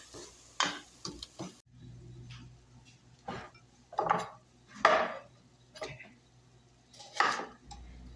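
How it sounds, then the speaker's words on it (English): Ground turkey and fresh vegetables cook in a pan for homemade chili, with intermittent stirring scrapes and light clatter against a faint steady sizzle, close and fairly quiet. "we're cooking the meat along with the vegetables now."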